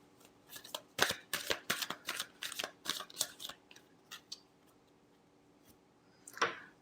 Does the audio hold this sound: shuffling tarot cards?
yes